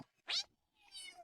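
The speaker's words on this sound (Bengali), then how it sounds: "মিউ শব্দে বিড়াল ডাকে" A cat meows twice, a sharp bright cry followed by a softer, drawn-out one, close and clear in a quiet room.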